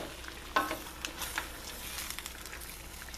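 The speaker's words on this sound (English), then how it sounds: "We'll get this deglazed here." A hot pan of Swiss steak being deglazed gives off a steady hiss of sizzling with sharp crackling pops scattered throughout, close and fairly loud, with no talk.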